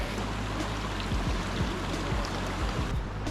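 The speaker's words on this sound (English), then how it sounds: "we stopped at the stream. The sound of water sounds so refreshing" A mountain stream in Yellowstone's backcountry flows steadily nearby, a dense continuous wash of rushing water with low gurgles underneath and no voices.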